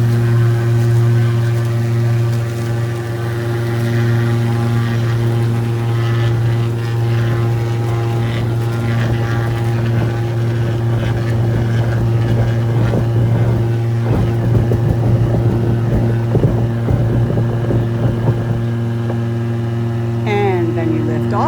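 A seaplane takes off from water: a loud, steady propeller engine drones with strong low tones, rising roar and splashing water noise as the craft gathers speed.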